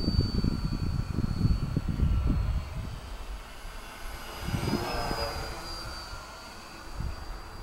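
A large twin-engine de Havilland Mosquito RC model airplane's motor on a 2-cell battery whines overhead, buzzing loudly at first, then fading and swelling again as it passes at a distance.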